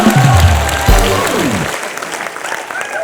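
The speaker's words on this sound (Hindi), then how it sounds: "यूथ आइकन बॉबी देओल के लिए जोरदार तालियां" Loud, dense audience applause and cheering fills a TV comedy show studio, starting strong and holding steady throughout. Some crowd voices mix in.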